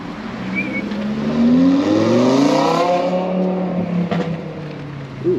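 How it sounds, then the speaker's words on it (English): Audi R8 sports car pulling away from a dealership lot, engine note rising and climbing loudly through revs near at hand before easing off as it leaves, with a pop near the end. "This is R8 leaving."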